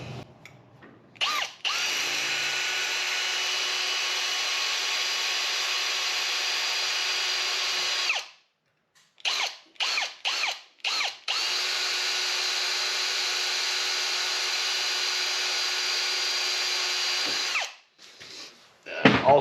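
A power drill drills bolt holes in metal for a fuel tank in a long, steady high-pitched whine, cuts out for a few short stop-start bursts, then drills continuously again before stopping.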